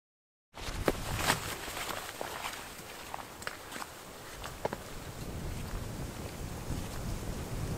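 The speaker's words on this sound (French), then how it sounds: "il y a déjà pas mal de vent, du vent frais" Fresh mountain wind in the Cévennes gusts steadily across the microphone, a continuous breathy rush with faint scattered knocks and rustles, no voices.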